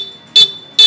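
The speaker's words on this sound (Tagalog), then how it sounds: "Pagkatapos nga namin maikabit ang G-Star horn ay ganito na yung naging tunog niya" A G-Star horn fitted to a Honda Click 125 scooter sounds two short, loud, bright beeps, close by and evenly spaced, with a faint electrical hum between them.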